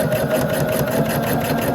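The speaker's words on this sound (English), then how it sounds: "I am going to backstitch here, only because this is not going to get put together anytime soon" A Pfaff sewing machine backstitches a quilt block, its needle clattering in a fast, even rhythm of close, loud stitches with no pauses.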